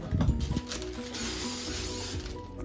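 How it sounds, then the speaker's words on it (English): A short hissing spray of cooking spray from an aerosol can onto a glass Pyrex baking dish, a burst of pressurized mist lasting a couple of seconds, close by, with faint clinks at the start. "I spray it."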